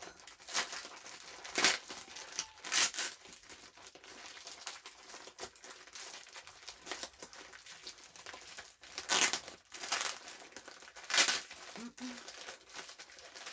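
A heavily taped Temu parcel being torn and pulled open, with bursts of crinkling plastic and ripping tape coming in irregular loud snatches between quieter rustling, close up and without speech.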